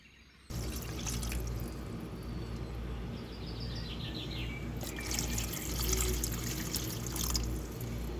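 About 1.5 litres of water pours steadily into a cooking pot for several seconds, a continuous splashing rush with faint dripping near the end.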